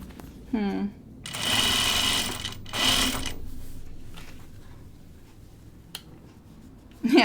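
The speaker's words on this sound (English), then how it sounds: "I'm going to stitch this right on top of the first stitching for now." A sewing machine stitching a Carolyn pajama top runs in two short loud bursts close by, separated by a pause, with a brief voice before and faint clicks after.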